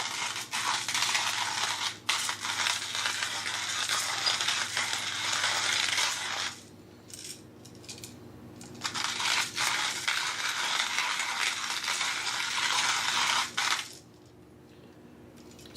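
A Triple Tree electric coffee and spice grinder grinds coffee to an espresso-fine consistency, running in two loud, steady crushing bursts of about six and five seconds separated by a short quieter pause, with no talking.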